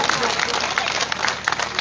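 Crowd applause at a civic felicitation ceremony in a market area, dense clapping filling the whole moment with steady, bright bursts and a busy, reverberant crowd wash underneath, fairly loud and close.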